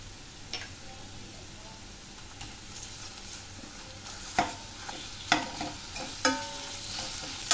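Ginger-garlic paste fries in oil with browning onion for a Veg Kolhapuri, a soft low sizzle broken by occasional sharp spatula knocks and scrapes against the pan.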